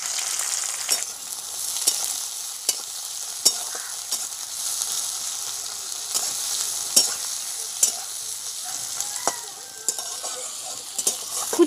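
Chopped onion frying in hot oil in a kadai with bay leaf, cracked cardamom and whole garam masala, a bright continuous sizzle with regular sharp scrapes and taps of a spatula stirring close by.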